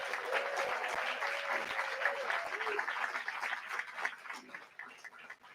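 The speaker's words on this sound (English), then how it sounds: "how about a round of applause for all of our award winners tonight?" A room applauds award winners at a health equity awards gala, continuous clapping that holds steady and tapers off toward the end, with a few voices mixed in underneath.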